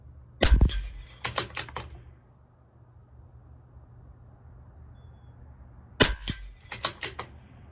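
A CZ 457 LRP rimfire rifle fires at targets 50 yards away in a rifle match, sharp close cracks with bolt-action clicks between them, one shot early and another about five seconds later.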